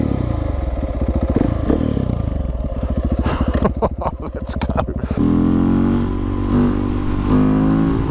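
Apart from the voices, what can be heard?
KTM 690 SMC R motorcycle riding, accelerating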